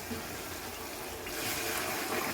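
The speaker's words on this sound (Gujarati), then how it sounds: "જો મમ્મી હવે ગરમ પાણી એમાં ઉમેર્યું છે." Hot water poured into potato curry in a pressure cooker, a continuous rushing pour that gets louder and fuller partway through.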